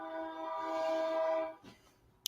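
A passing train sounds a long, loud horn blast for about a second and a half, then fades, leaving rumble and a short sharp noise at the end.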